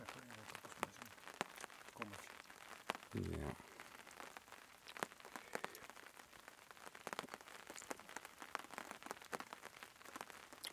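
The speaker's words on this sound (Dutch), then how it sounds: "Heel licht regenbuitje." Very light rain shower on a canoe trip in southern Norway, a steady faint patter of scattered drops with a brief nearby voice.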